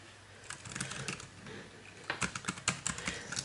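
Fingers type on a portable fold-up Bluetooth keyboard made of aircraft-grade aluminium, giving soft, quick key clicks in irregular bursts that grow denser toward the end, close and quiet, with no speech.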